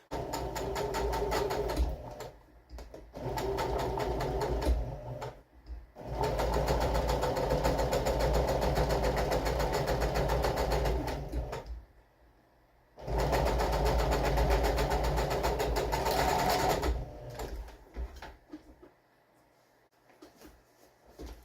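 A sewing machine stitching off the corners of a fabric caddy, running in loud, steady whirring bursts of several seconds each, separated by short pauses and ending in quiet.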